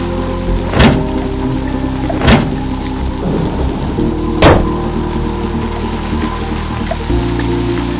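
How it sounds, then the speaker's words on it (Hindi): Steady heavy rain with three sharp thunder cracks spaced a couple of seconds apart, loud and close, with no voices. "आसमान में तेज बिजली कड़की और बारिश जो थोड़ी थमी थी एकाएक फिर झमाझम बरसने लगी।"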